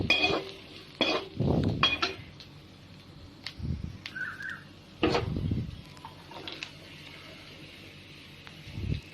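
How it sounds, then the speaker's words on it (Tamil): Turmeric and chili powder being stirred and fried in a pan, with intermittent scraping and clinks of a utensil against metal over a faint sizzle, close and without talk. "இப்போ பாருங்கள், நான் மஞ்சள் தூளும் மிளகாய் தூளும் போட்டுட்டு அதை நல்லா ஃப்ரை பண்ணிகிட்ருக்கேன்."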